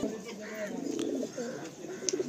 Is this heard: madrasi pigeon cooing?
yes